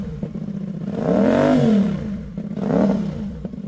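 CLC 450 motorcycle fitted with a Von and Hans muffler, engine running close by with two rising-and-falling revs that swell into a throaty roar and ease back to a rough idle.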